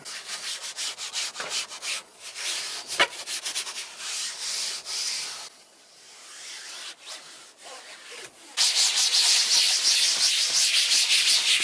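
Soft-bristle brush scrubbing a plastic car trim surface with cleaner, producing a continuous close, rough swishing and rubbing with rhythmic back-and-forth strokes, a brief quieter pause, then a stronger steady scrub.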